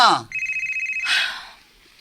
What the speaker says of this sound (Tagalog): Cellphone mo.